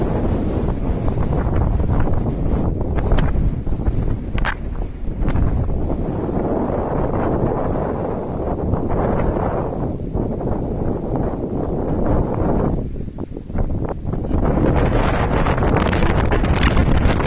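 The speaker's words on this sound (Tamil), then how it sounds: "குளுந்த காத்து," Strong wind buffets the microphone at Manimuthar dam, a loud, steady rushing roar with gusty swells and rustling, continuing throughout without talk.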